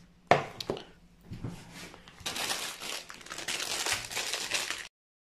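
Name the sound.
knife slicing leeks on a cutting board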